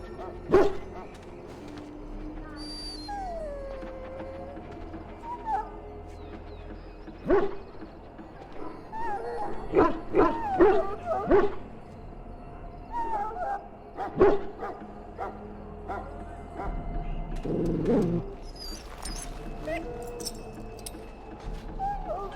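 A dog in Dragon Age: Origins gives several barks and whining yelps amid game ambience and occasional jingling, the calls scattered irregularly, some sharp and near.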